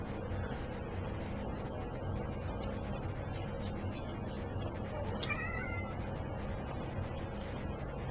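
A cat gives a short meow partway through, fairly faint over a constant low background hum, with no clear speech around it.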